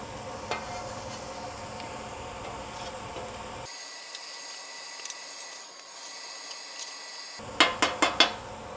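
Meat sears on a BBQ griddle with a low sizzle as metal spatulas scrape and tap it. Near the end several sharp clanks of metal on the hot surface follow in quick succession.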